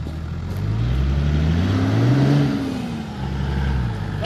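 A 4WD vehicle's engine revs while it climbs an off-road track in the Blue Mountains, giving a low steady drone that swells into a rising rev and then settles back, close and continuous.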